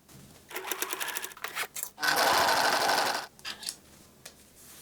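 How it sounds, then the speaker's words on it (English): An electric sewing machine stitches the center seam of a bag made from old denim jeans, running in short stop-start bursts followed by one longer, steady run of close mechanical whirring. "Square up and sew center seam."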